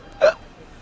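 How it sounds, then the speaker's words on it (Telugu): A single short, sharp hiccup from a man, close and abrupt, standing out briefly from quiet background. "ఎక్కిళ్ళు వస్తున్నాయిరా"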